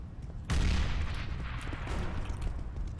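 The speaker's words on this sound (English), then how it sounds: "I'm throwing a grenade!" A grenade explodes in a competitive team shooter game: after a brief quiet moment, a sudden loud blast hits and then trails into a sustained, rumbling roar of debris and noise.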